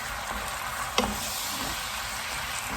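Minced pork stir-fries in sesame oil with oyster sauce in a wok over high heat, a steady close sizzle with one sharp spatula clink.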